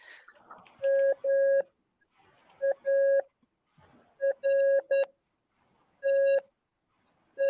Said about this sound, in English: So an example of Morse code in sound using a beeper or anything such as that